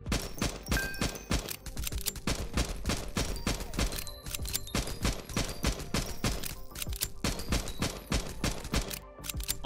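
Constant rapid gunfire from a bullet-heavy build in the Nimrods Guncraft Survivor video game, a dense, loud stream of overlapping shots and impacts with no breaks.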